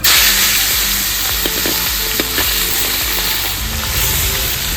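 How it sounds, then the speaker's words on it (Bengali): Rohu fish heads fry in hot oil in a wok, making a loud, steady sizzle with bursts of crackling and occasional scrapes of stirring, close and constant. "রুই মাছের মাথাগুলোকে ভালো করে ভেজে নিচ্ছি"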